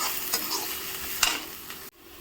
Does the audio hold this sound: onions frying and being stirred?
yes